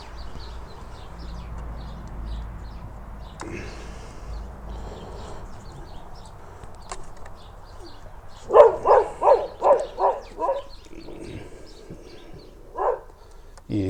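An agitated dog barks in a rapid burst of about six loud, close barks, then a single later bark, over a quiet room with faint handling noises before.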